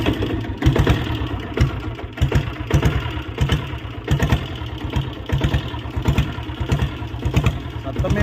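A diesel Bullet motorcycle sits idling close by, its single-cylinder engine thudding in a steady, rapid rhythm of regular knocks, loud and continuous, with someone talking over it.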